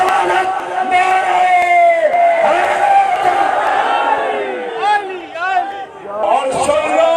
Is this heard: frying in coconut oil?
no